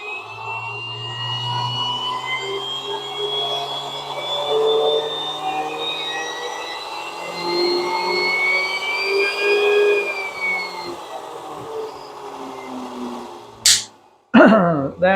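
A 3D-printed axial flux brushless DC motor runs at full power inside a box, giving a loud, steady high-pitched whine that holds and wavers slightly for most of the stretch before cutting off abruptly near the end.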